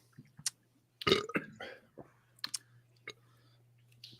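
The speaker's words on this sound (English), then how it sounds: "All my burps are foamy, and I don't want them to be foamy." Several short, close burps from a person drinking Miller High Life beer, scattered over a few seconds with quiet gaps and a steady low hum underneath.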